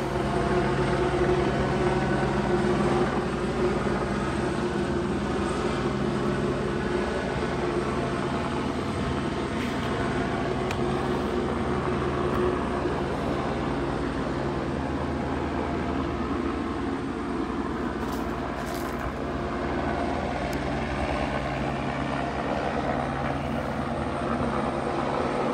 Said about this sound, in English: I heard the helicopter literally blocks away from where I live